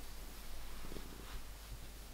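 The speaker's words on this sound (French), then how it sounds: "il est content que je vienne le voir, donc il fait un petit peu de ronronnement" A contented cat purrs while lying against a soft plaid blanket, a faint, steady low rumble close by with no voices over it.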